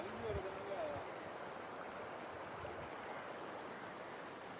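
The overflowing Kaveri river rushes along its banks on a road into a village, making a broad, steady roar of flowing water that stays constant and fairly close throughout.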